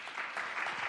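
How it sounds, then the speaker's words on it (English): An audience claps for a panel of speakers at an urban policy discussion, with a brief, fairly faint burst of steady applause. "Maybe another round of applause for them."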